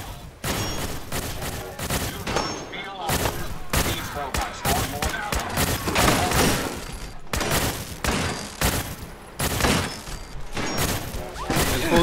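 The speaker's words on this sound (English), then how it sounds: "I'm hearing gunfire." Rapid bursts of gunfire in the video game Fallout 4, heavy repeated shots and thuds packed tightly together, loud and close, continuing almost without pause throughout.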